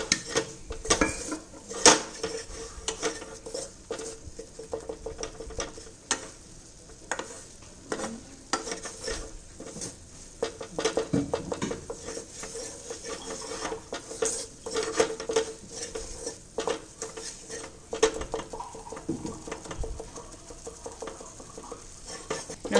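Clinking of a utensil against a pan while white sauce for pasta is stirred over a low flame, with a continuous scraping and tapping rhythm, light sizzling and steady close kitchen clatter throughout.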